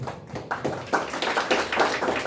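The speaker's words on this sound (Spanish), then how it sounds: "den una ofrenda de palmas" Church congregation applauding in a burst of clapping, uneven and moderately close, rising into a fuller patter after a brief gap.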